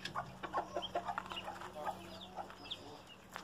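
A hen in a yard of fighting-breed chickens clucks in a quick, rhythmic string of soft calls, fairly faint and close, over quiet background hum.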